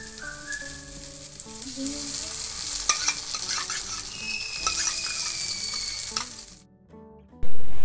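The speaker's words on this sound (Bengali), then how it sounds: "পেস্টটা দেওয়ার পর ততক্ষণই কষাতে হবে যতক্ষণ না মশলাটা থেকে তেল ছাড়ে" A paste of cashew, yogurt and mustard stir-fried in a pan, crackling and sizzling under repeated spatula scrapes and clinks, then cutting off briefly before a sudden loud burst at the end.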